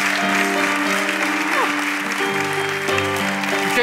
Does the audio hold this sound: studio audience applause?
yes